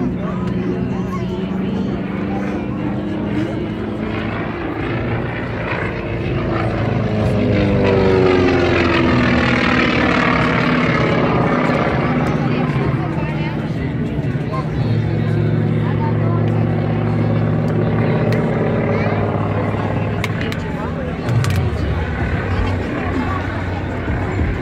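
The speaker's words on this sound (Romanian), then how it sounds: "să ascultăm sinfonia motorilor Ryan Cyclone" Flying Bulls vintage aircraft run their Cyclone engines at an air show, a loud, sustained propeller roar whose pitch rises and falls as they taxi past, with crowd babble beneath.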